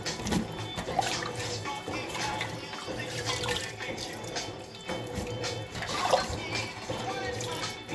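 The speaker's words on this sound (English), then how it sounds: "now I'm going to let this water out, but I'm going to strain it first" Rinse water from washed sea moss pours and splashes through a strainer, a continuous wet rush with small swells and drips close by, under a voice talking.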